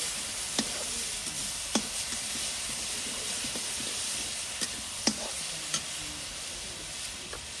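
Masala sizzling and frying in a pan over a high flame, a steady hiss with scattered soft stirring clicks, fairly close and without talk.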